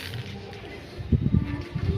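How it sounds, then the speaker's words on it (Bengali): Pet pigeons at a home loft give low, throaty coos. The burbling pulses begin about halfway through and repeat close together, nearby over a faint background hum. "আর এখানে তো অনেক পায়রা আছে"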